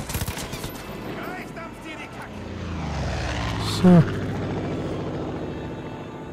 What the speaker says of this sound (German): Mein Flugzeug wird beschädigt.